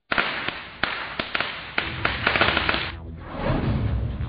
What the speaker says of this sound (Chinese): 那么究竟怎么燃放烟花爆竹才是安全的呢？